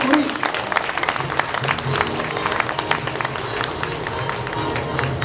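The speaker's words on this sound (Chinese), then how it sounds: "请大家掌声鼓励。" An audience applauds at the founding ceremony of an industry-academia association in Changhua County, with steady, dense clapping from a crowd throughout, sustained and fairly loud.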